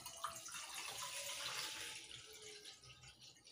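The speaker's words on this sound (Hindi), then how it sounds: "एक, एक लीटर के करीब इसमें पानी शामिल करेंगे" About a litre of water is poured into a pan for vegetable soup, giving a faint, steady splashing stream with no talk over it.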